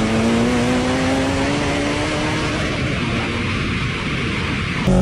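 A 900 horsepower Nissan Skyline drives by with a loud, sustained engine drone whose pitch slowly rises, with rushing noise throughout.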